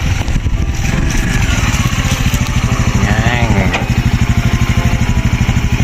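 A scooter engine runs in a forest with a loud, close, rhythmic putter at an even idle pace, while people talk over it.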